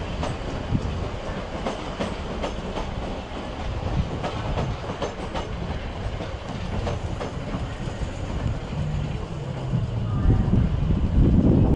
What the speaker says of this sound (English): London Overground service coming into Clapham Junction.